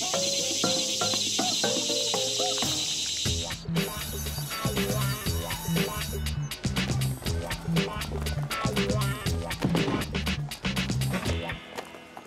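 A dense burst of cricket chirping rings out at first, then gives way to busy scuffling, thumping sound effects.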